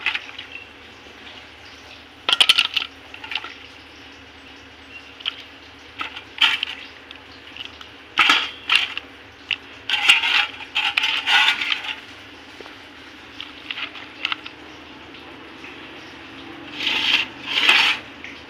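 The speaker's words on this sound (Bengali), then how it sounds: "মশলা করা হয়ে গেছে এবার লোটে মশলা মাখিয়ে নেবো" Lote fish (Bombay duck) being mixed by hand with masala spice paste, heard as wet squelching and soft slapping in irregular bursts, close up and fairly loud, with no talk.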